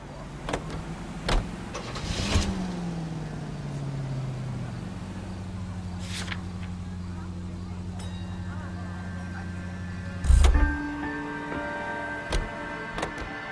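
A 1940s Los Angeles car in L.A. Noire starts up and settles into a steady engine hum, with a door thud and a few clicks along the way.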